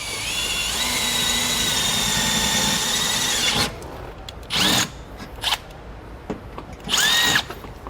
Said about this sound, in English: And then you probably wanna brace yourself and drill it on through.